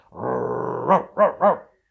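A mother dog confronting a group of children gives a sustained close growl, then three sharp, evenly spaced barks before falling silent, with no talk.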